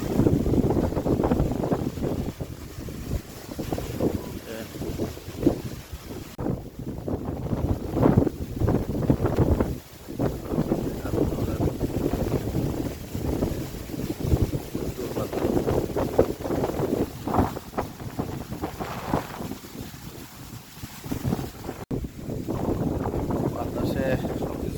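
Strong storm wind gusting across a riverside rice field, a loud, continuous roar buffeting the microphone, with someone talking through it.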